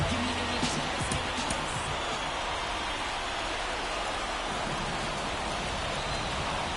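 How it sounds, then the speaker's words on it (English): Steady rain hisses without a break through a night of MLB 24 baseball, Cardinals at home in the bottom of the seventh, a dense even wash with faint crowd and commentary murmur beneath. "This rain is not letting up."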